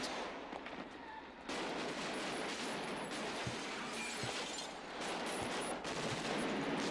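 Gunfire from an action film playing on a TV, heard as a faint, muffled burst of several shots over a steady noisy background.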